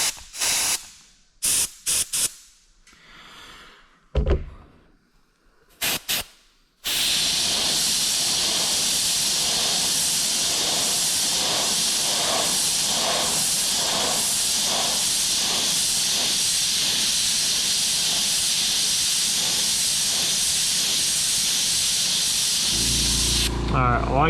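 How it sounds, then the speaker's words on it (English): An airbrush sprays paint reducer onto a skateboard: a few short handling knocks and bursts, then a loud, continuous close-up hiss that holds for many seconds before cutting off. "It's just shooting the reducer and stuff through the airbrush at this time"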